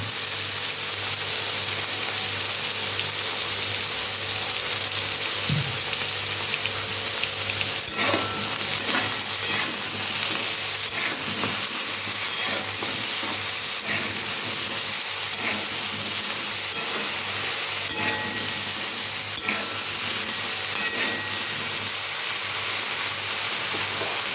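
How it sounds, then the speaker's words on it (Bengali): Eggplant pieces fry in a pan with turmeric and salt, making a loud, continuous hissing sizzle with occasional pops and stirring scrapes, close up and with no voices. "এইভাবে বেগুনটা আমি এখন ভেজে নেব"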